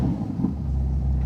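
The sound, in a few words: Ferrari Roma Spider 2024 engine starting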